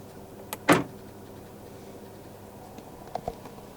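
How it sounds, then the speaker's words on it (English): A 2023 Audi A3 Saloon 2.0 TFSI S line's electronic central locking actuates with one sharp clunk inside the quiet cabin, followed a few seconds later by a couple of faint soft clicks. "Electronic central locking."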